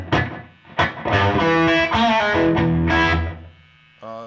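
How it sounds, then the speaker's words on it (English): A distorted electric guitar plays a short phrase of chords and notes, each attack followed by a quick echoing slapback delay repeat from a TC Electronic effect. "I do have a little slapback going through the effects via the TC Electronics."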